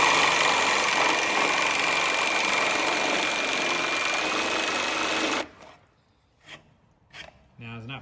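A Milwaukee D-handle jigsaw cuts steadily for several seconds with a loud, close, buzzing saw whine, then stops, followed by a few brief knocks and handling sounds.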